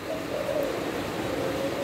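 Văn Hoa pigeons cooing: a steady, soft low coo running continuously for about two seconds, close but muffled under a noisy background, with no talk.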